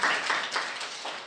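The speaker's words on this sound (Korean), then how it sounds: "박수 한번 주세요." Lecture audience at a talk on cultural heritage sites clapping briefly, a short burst of scattered hand claps that fades out quickly, moderately loud with no voices over it.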